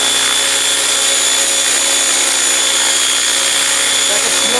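An Airwolf RC model helicopter hovering at 85% throttle, a loud steady electric whine with constant tonal rotor hum, close by and unbroken for the whole stretch.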